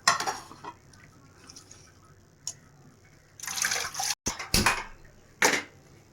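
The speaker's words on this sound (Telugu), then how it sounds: "దుంపల్ని నాలుగు మూడు సార్లు కడుక్కోవాలండి" Potato pieces being washed in water in a home kitchen for French fries, with intermittent splashing, sloshing and clattering bursts separated by quieter pauses.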